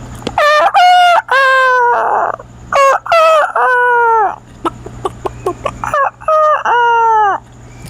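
A person imitates a rooster's morning crow, giving several loud, close, drawn-out cock-a-doodle-doo calls with brief gaps and clucking fragments between them.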